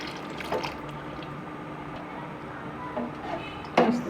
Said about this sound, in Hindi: पहले मैं इसमें डालूँगी ये फ्रेश मिल्क।